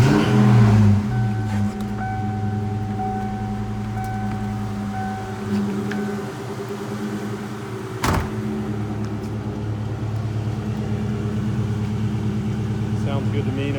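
A Cobra car engine, just fitted with new ignition coils, catches and settles into a steady, close idle with a low rumbling drone and one brief knock partway through; no voices.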